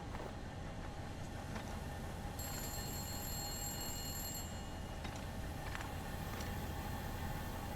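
A telephone rings faintly in The Long Dark video game, a thin repeated electronic ring heard several times over a low steady rumble.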